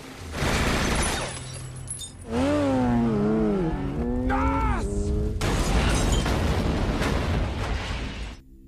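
A car is shot until it explodes in The Fast and the Furious: loud, continuous crashing and burst noise mixed with gliding tonal wails, with a voice heard partway through.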